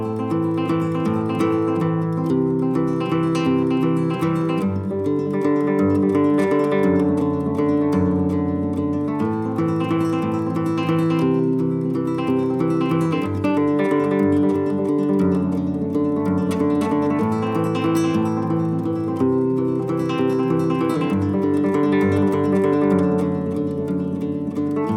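Fingerstyle acoustic guitar playing a song with a thumb-middle-index tremolo pattern, a steady rolling stream of plucked notes over sustained bass, full and close with no talking.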